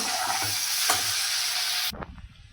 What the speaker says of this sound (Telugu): హాఫ్ టేబుల్ స్పూన్ అల్లం వెల్లుల్లి పేస్ట్ కూడా అయితే వేసుకొని బాగా అయితే ఫ్రై చేసుకోవాలి